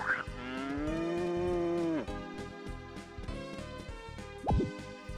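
A cow in the Harvest Moon: Magical Melody farming game gives one long, clear moo, followed by softer farm noises and a short sharp sound near the end, with no talking.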